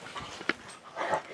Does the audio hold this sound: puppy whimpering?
yes